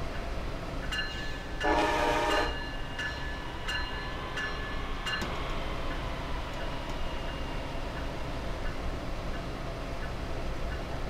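An ACS-64 electric locomotive driven in Train Simulator 2017, a steady low rumble of the running train with a short horn-like blast near the start and a few clicks, no talking.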